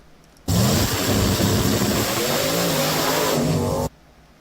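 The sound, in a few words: 69 Camaro big block engine revving on shakedown run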